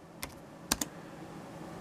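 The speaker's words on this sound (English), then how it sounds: "I could make a little fancier program typing over my existing line 10" Keys clack on a vintage computer keyboard while a BASIC program line is entered, three crisp close strokes, one lone tap then a quick pair, over quiet room hiss.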